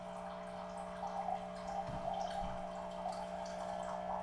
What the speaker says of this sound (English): Now it's doing the rinsing the water filter thing